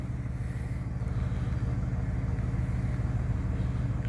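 A steady low rumble from an old GMC Volvo work truck engine, idling or running evenly up close, with no talk over it.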